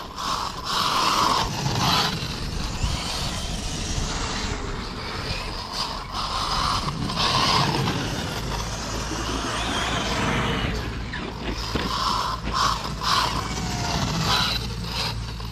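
A Traxxas X-Maxx RC truck, run with a loosely fastened wheel, whirs and drives on rough ground, gear and motor whine rising and falling in surges over continuous crunching and rumbling.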